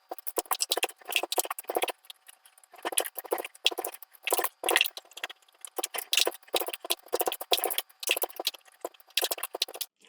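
A spoon stirs a melted caramel mixture for pretzel caramel peanut bars just off the heat, giving a steady, busy patter of sticky scraping and tapping strokes up close for the whole stretch, with no voices.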